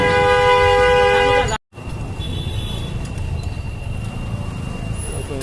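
A train horn blares near a station by a rail crossing, holding one loud, steady tone for about a second and a half before it cuts off. A low rumble of jammed road traffic continues after it.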